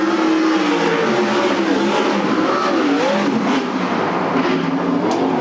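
Western sprint race cars roaring around the Sunset Speedway Park track, a steady loud engine drone with rising and falling revs as the cars pass and overtake, without talk.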